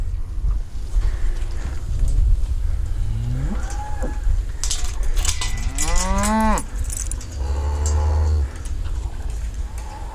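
Cattle mooing at close range on a farm during low-stress handling with polywire, several long, loud, rising bellows one after another, with low rumbling and handling noise between them.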